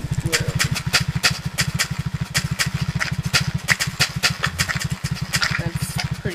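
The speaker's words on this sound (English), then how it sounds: "Here's my ATV. It goes up anything, literally." ATV engine in the Minecraft SDK Guns mod, a fast steady buzzing putter driving continuously at close range, with no talk over it.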